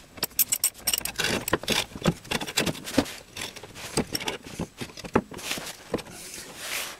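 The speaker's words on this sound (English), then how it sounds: "So I'll jack it up, take the wheel off" A Lotus Elan being raised on a scissor jack, with close, uneven metallic clicks, ratchety rattles and jangling taps that come in irregular bursts.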